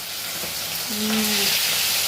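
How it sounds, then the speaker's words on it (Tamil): Mackerel fish deep frying in hot oil gives a loud, steady sizzling hiss up close, with a brief faint tonal hum partway through and no talking. "இதுதான் ஃபர்ஸ்ட் டைம் எண்ணெயில் பொரிக்கிறாங்க"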